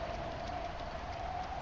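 Heavy rain in the video game Bear and Breakfast, a steady, dense hiss of downpour that stays constant and fairly loud throughout, with no voices.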